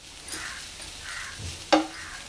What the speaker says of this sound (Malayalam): 1 മിനിറ്റ് നേരമൊക്കെ നമുക്ക് ഈ തേങ്ങ ഇതുപോലെ ഒന്നങ്ങ് വറുത്തെടുക്കാം